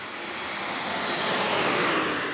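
An Alaska Airlines jet at San Diego airport gives a steady, broad engine roar that swells slightly and holds throughout, with no voices over it.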